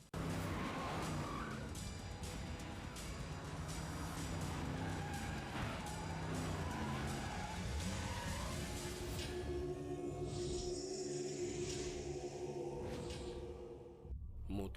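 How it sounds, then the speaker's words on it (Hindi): Car driven fast with tires skidding and squealing, a loud continuous roar of engine and screeching rubber with busy action-scene noise layered over it, easing off near the end. "गाड़ी चला जल्दी"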